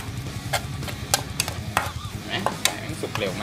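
Shallots stirred in a hot pan for larb gai, a low sizzle under repeated sharp clinks and scrapes of a spatula against the pan in an uneven rhythm, close by.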